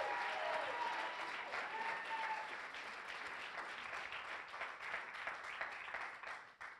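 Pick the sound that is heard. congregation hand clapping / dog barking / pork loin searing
congregation hand clapping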